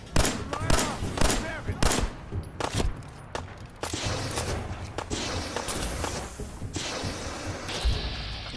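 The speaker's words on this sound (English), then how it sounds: "They're shooting at us." Rapid gunfire erupts in a Fallout 4 firefight, a dense barrage of sharp cracks and bursts rattling almost continuously at close range, with scattered thuds and footsteps mixed in.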